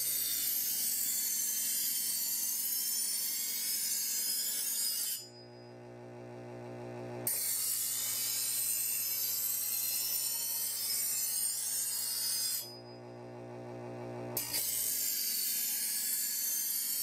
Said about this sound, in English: For stage two, again, you pull on the left and then the right